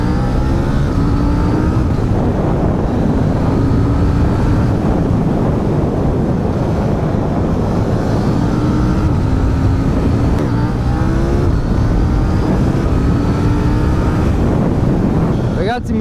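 A KTM 790 Duke motorcycle engine hums and revs steadily while riding, with rising harmonic sweeps from gear changes and throttle, under continuous loud wind rush against the microphone.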